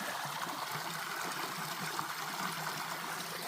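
Mountain stream water flowing beside a hiking trail, a steady, soft, continuous rushing and trickling with no talk.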